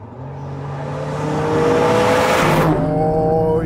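An Alfa Romeo Stelvio Quadrifoglio accelerates hard, its engine note climbing steadily in pitch and loudness through a gear, then dropping briefly at the shift before pulling again, heard close and continuous with no talk.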